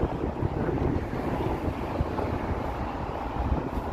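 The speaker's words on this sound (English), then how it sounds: "it's still a bit windy, of course." Steady, gusty wind buffets the microphone on a mild spring Toronto street, a continuous loud low rumble with no pauses and no talk.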